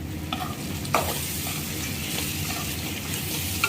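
Kadai chicken with pepper and curry leaves roasting in a pan, giving a steady soft sizzle with a couple of sharp stirring scrapes near the start and end, and no voices.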